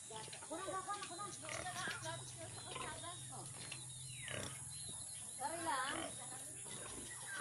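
Large white pigs on a farm in Hupi, Santa Cruz grunt and squeal repeatedly at close range, mixed with people chatting nearby over a steady background hiss.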